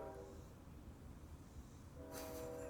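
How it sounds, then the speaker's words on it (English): A faint, distant train horn gives a brief short honk over low rumbling background noise. "it was the little short honk that got me."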